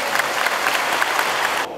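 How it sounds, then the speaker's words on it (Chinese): A crowd of volunteer police at a gymnasium review applauds, a dense, loud burst of clapping that holds steady for nearly two seconds before cutting off abruptly. "我们是不是给自己一个热烈的掌声"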